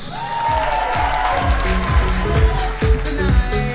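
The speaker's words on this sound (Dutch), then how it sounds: "Geef hem een groot applaus." Crowd applause for a DJ at an evening talk show during a town festival in Dokkum, a dense burst of clapping with scattered cheers, over music and a voice on the PA.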